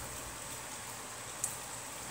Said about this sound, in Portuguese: Aqui já tá chovendo, né?